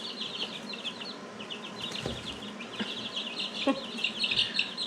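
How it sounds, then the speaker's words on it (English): Isa Brown hens cluck and chirp softly nearby in a continuous chatter of short calls, at a moderate distance with a quiet outdoor background. "Hey girls, hey chickies, hey chickies."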